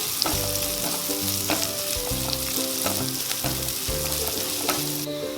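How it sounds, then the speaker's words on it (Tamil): Sliced onion frying in ghee for ghee rice, a loud continuous sizzle overlaid with a repeating tonal hum and periodic stirring knocks throughout. "இந்த நெய்யோடையே ஒரு மீடியம் சைஸ் பெரிய வெங்காயத்தை நீட்டாக கட் பண்ணி போட்டுக்கோங்க. இந்த வெங்காயம் நல்லா கோல்டன் ப்ரௌன் ஆகணும்."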